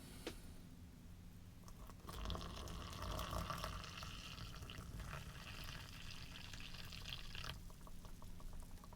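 Water is poured into a 1975 U.S. LRRP Menu #4 beef with rice ration pouch over dry powder, a close, steady splashing trickle lasting several seconds before tapering off, with no talking.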